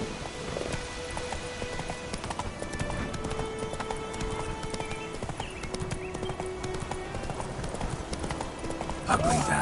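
Roach the horse gallops with steady, rapid clip-clop hoofbeats through the whole stretch in a PS4 video game, layered over in-game ambience and speech.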